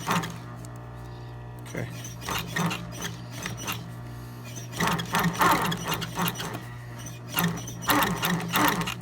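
Leather piping on a Louis Vuitton Retiro PM bag being stitched by a sewing machine, with bursts of rapid mechanical clatter separated by pauses, a steady low hum throughout and a brief spoken word.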